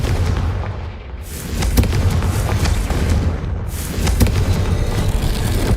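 A Confringo fire spell blasts in Hogwarts Legacy, a loud booming burst of explosions and crackling rumble that swells twice, with continuous heavy low roar and no talk.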